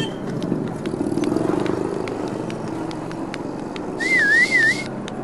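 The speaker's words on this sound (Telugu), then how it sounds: "ఏంటమ్మా విజిల్ మంచి సౌండ్ మీద వస్తున్నాయి?" A person whistles a short, wavering melodic tune near the end, loud and clear over a background of engine rumble and ticking noise.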